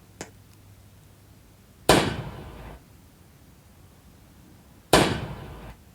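A fireworks-firing tower in the Roblox game Toilet Tower Defense lets off two loud, sharp blasts a few seconds apart, each fading in a crackling tail, after one faint click.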